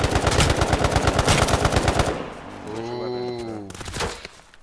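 Rapid automatic gunfire rattles in H1Z1 Battle Royale, a loud, even burst of shots lasting about two seconds before breaking off into other game sounds.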